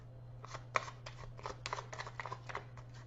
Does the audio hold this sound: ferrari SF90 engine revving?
no